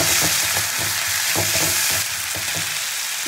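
Onion paste frying in hot oil for a malai prawn curry, a steady loud sizzling hiss broken by soft stirring scrapes, with no voices.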